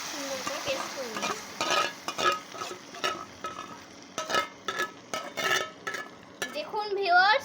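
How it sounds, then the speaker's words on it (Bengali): Ginger, garlic, onion and green chilli paste sizzles in a pan with repeated stirring and scraping strokes; a voice talks briefly near the end. "এই দেখুন সুন্দর করে ভাজা হচ্ছে মশলাটা"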